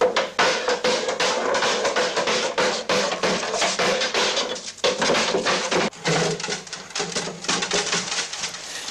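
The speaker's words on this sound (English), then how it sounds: "forced into a tight fit by hammering a steel hoop firmly over the timber" Steel hoop hammered down over timber barrel staves by a cooper, a dense, continuous run of sharp metallic and wooden strikes, loud and close, with a few brief pauses.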